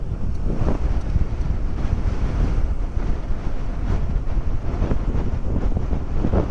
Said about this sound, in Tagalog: lakas ang hangin par